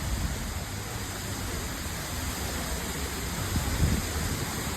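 A waterfall pours steadily at night as a dense, constant rushing roar that fills the whole clip, loud and close, with no voices.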